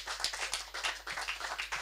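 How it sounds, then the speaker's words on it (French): Church congregation at a New Year's Eve service applauding, a dense, rapid patter of many hands clapping continuously at moderate volume. "Applaudissons plus fort, plus fort, plus fort."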